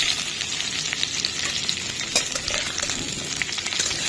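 Radish pieces frying and being stirred in a pan with five-spice seasoning, a steady close sizzle with scraping stir strokes throughout, no talk.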